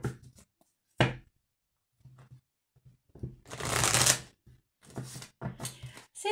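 Oracle cards being shuffled by hand, several crisp riffling bursts with brief pauses between them, close and fairly quiet.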